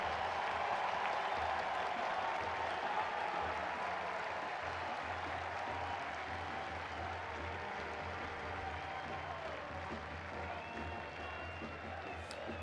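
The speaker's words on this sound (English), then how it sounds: "he gets a huge round of applause from the crowd. Standing ovation." Large stadium crowd at a Louisville City FC friendly against Orlando City applauding and giving a standing ovation to the captain, a steady roar of clapping and crowd noise sustained throughout, gradually easing slightly toward the end.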